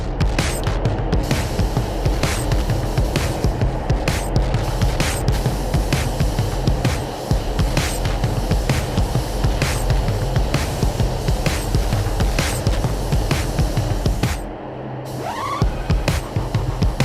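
Aerosol can of plastic adhesion promoter sprayed onto a raw plastic skydiving helmet, a steady close hiss running almost continuously with a brief pause near the end.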